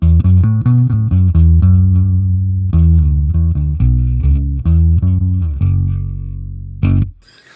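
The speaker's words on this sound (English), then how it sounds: "That is a good bass tone." An electric guitar is made to sound like a bass using a pitch effect on a Line 6 Helix. A loud, deep line of plucked notes plays at a steady pace, then a final held note rings and cuts off.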